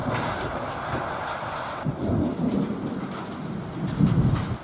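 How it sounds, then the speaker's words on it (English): Heavy rain pours steadily on a Wyoming ranch during a sudden storm, with deep rolls of thunder rising and falling through the downpour, loud and close. "I mean, this is like epic amounts of rain."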